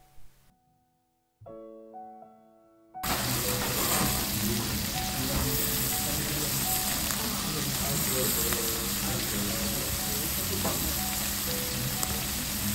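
Thick-cut salted pork loin sizzling loudly over the grill at a yakiniku restaurant, a dense continuous crackle that starts abruptly after a brief quieter moment of music-like tones.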